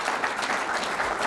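An audience claps in a dense, steady burst of applause, close and even throughout, with no break in the clapping.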